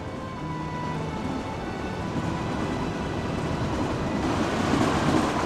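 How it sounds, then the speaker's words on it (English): In Kingdom Hearts 2, a spooky ghost train rumbles past with a steady rolling clatter and hum that builds slightly toward the end, with no voices over it. "Yep, spooky ghost train."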